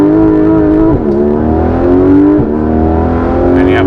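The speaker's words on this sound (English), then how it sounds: "the ability to stop, engage the brake, mash the throttle." Porsche GT3 RS with PDK gearbox, held on the brake with the throttle mashed: a loud, close, sustained engine roar with strong harmonics, wavering briefly twice as the revs dip and climb again.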